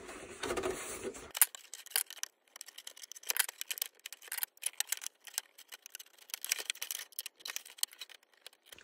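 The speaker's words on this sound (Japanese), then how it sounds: "だいたいハサミでだいたい切りました。" Scissors cut the body shell of a Lancer Evolution RC drift car, making a quiet, close series of irregular snips and small crunching clicks with no talking.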